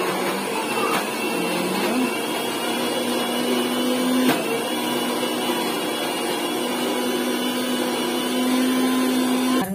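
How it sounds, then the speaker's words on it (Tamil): Mixer grinder whirring continuously while grinding cottonseed for cottonseed milk, a steady close motor drone with small pitch shifts and a brief click midway. "இன்னும் இதையும் கூட கொஞ்சம் அரைச்சி எடுத்துக்கலாம்"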